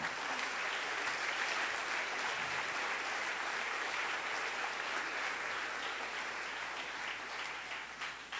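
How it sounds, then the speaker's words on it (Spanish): Church congregation at a Sunday service applauds steadily, a continuous roar of many clapping hands filling the hall for several seconds, heard alone without speech and easing off slightly at the end. "denle un aplauso al Rey, por favor"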